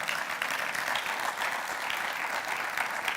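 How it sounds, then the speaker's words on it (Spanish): A church congregation breaks into applause at a sermon, a short burst of many hands clapping at once that stays even and fairly soft from start to finish. "Denle un aplauso"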